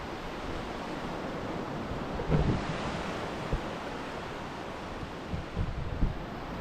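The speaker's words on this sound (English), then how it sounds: "I had to find my way down to the sea cave" Waves surge inside a sea cave on the Oregon coast, a soft continuous wash of water and wind with a few brief thuds and splashes, faint and without voices.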